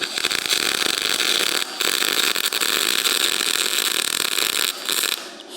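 A 200 amp welder running at full crank while replacing a rusty trailer hitch on a box truck gives a loud, steady broadband hiss and crackle. It drops out briefly twice, then resumes.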